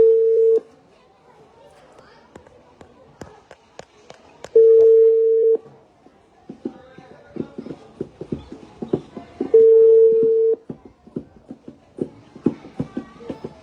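An outgoing phone call goes unanswered, with three steady ringback tones of about a second each spaced roughly five seconds apart. Between the tones come faint clicks, tapping and low background chatter.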